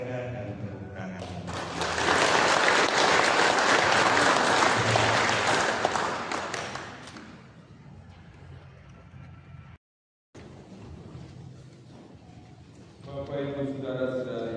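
Congregation at a Catholic wedding Mass applauds the newly married couple, a loud sustained wash of clapping that swells, holds for several seconds, then fades into quieter room sound and voices.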